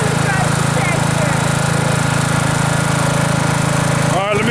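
A tractor engine runs close and loud as a steady, unbroken drone for several seconds, with a brief disturbance just before it ends.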